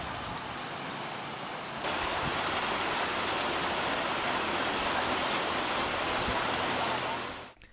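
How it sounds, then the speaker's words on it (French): The Mugere river near Bujumbura runs polluted toward Lake Tanganyika with a steady, broad rushing of flowing water that swells louder after about two seconds, holds constant, then cuts away at the end. "la rivière Mugere coule, emportant vers le lac Tanganyika tous ces déchets"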